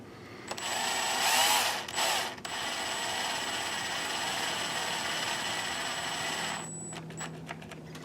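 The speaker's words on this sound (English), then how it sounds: "I use a cordless drill driver" Cordless drill driver running screws during repair of a Sanyo PLC-XM100 LCD projector, a close, high mechanical whine with gear chatter lasting several seconds, a few short bursts at the start and a brief stop near the end.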